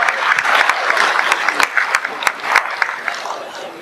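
A stage audience at a live corporate event claps steadily, dense applause with sharp individual claps standing out, loud and close, gradually thinning toward the end.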